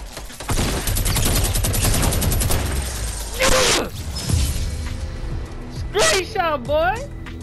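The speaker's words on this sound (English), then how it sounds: "I got a whole minigun. I can light him up." Rapid minigun fire in Fortnite: a dense, sustained burst of automatic shots fills the first few seconds, followed by scattered booms, impacts and sweeping game effects, with players talking over the action.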